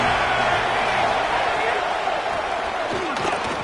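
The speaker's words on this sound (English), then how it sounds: "This crowd ready to make its presence known." A football stadium crowd roars as a steady, dense wash of cheering noise throughout, with a commentator talking over it.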